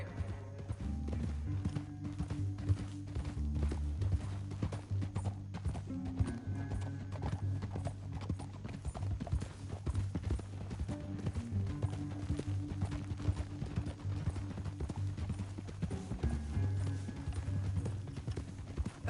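Rhythmic hoofbeats of horses galloping in Red Dead Redemption 2, a continuous clattering clip-clop with occasional whinnies over a low rumbling background.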